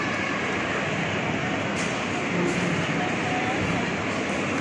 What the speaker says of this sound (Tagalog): Ayan na naman ang tren.